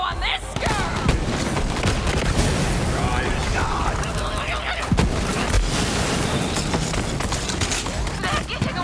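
Dense gunfire and explosive booms from the video game Borderlands 3 in a chaotic firefight, loud and continuous, layered under game voices and music.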